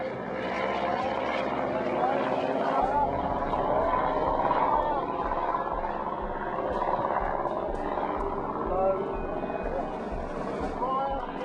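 A 1918-era propeller airplane flying at nightfall during a laser-hit experiment, a steady droning engine hum that holds for the whole stretch, with someone narrating over it.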